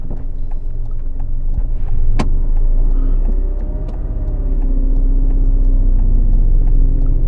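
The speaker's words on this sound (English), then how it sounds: "Now, as you hear the car rev, change up a gear, maybe every 10 miles an hour." Car engine droning and revving while driving during a learner's lesson, loud low rumble rising and falling, with a sharp knock partway through.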